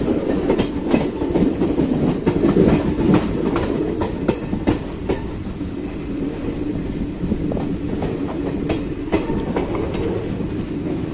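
A train pulls out of Kuchaman City railway station on the Jodhpur–Phulera route, wheels clicking rhythmically over rail joints beneath a steady rumble, heard from on board.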